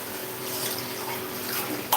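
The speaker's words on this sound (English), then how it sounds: "So the next thing that I'm going to do is add a cup of water for" A cup of water poured into a pot of cooking vegetables for sambhar and okra curry, a steady close pouring rush ending with a short clink, no talking.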